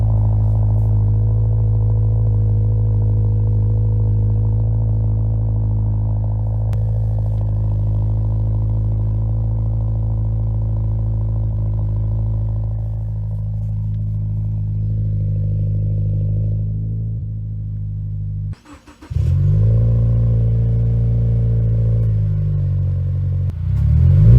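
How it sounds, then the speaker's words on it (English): A Subaru WRX with a new Invidia R400 exhaust idles with a deep, steady droning exhaust note, cuts out briefly, then rumbles back with a quick throaty rev near the end. "we got the exhaust on. As you can probably tell, it's a little bit of a deeper tone"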